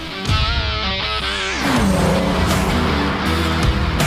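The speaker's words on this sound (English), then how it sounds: "I love the sound of this thing, man. It sounds like a race car." Engine of a Toyota Avalon TRD, shown as the 2019 TRD Pro concept at the SEMA Show, revs loudly with a rising then falling tone before settling into a steady, throaty drone.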